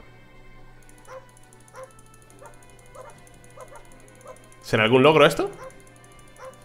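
A dog barks once, loud and close, in an indie space strategy video game, after someone speaks in Spanish over quiet background music and soft clicks.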